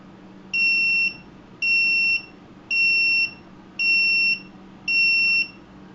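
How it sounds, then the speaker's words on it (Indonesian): An overload sensor buzzer on an RC car sounds in five evenly spaced, shrill electronic beeps, each about half a second long, loud and clear over a low background hum. "Pada kondisi buzzer yang terputus-putus, mobil sudah dalam keadaan siaga, berat hampir melebihi berat maksimum."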